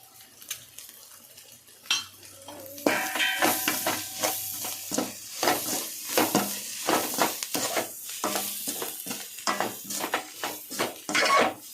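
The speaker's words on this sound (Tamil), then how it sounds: "மசாலாலாம் சேர்த்து நல்லா எண்ணெயில் நல்லா வந்து வதக்கி விட்டாச்சு" Masala stirred and sautéed in oil in a pan for egg rice, with a steady scrape and clink of a spoon against metal and soft sizzling throughout, close and fairly loud.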